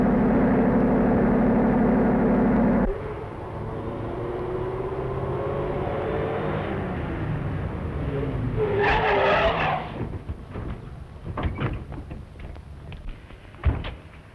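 A 1934-era tow car arrives with a loud engine rumble and then a squealing tire skid, followed by scattered thumps and door-like knocks.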